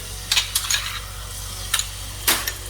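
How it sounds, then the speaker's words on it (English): A spoon stirring chicken curry masala in a pan for Murg Musallam, a few short scraping strokes over a low background hum with no talking. "give a quick stir"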